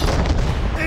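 Ship cannons firing during a naval battle in Assassin's Creed 3 in a dense, rumbling volley that fills the whole moment, heavy and loud with a faint voice near the end.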